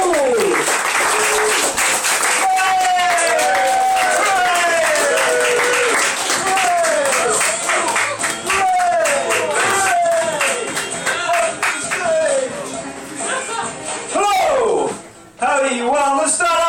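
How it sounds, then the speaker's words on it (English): An audience at an Edinburgh show claps and cheers throughout, and a dog-like barking or whooping voice rises and falls over the crowd noise. "Let's start some clapping and cheering, please."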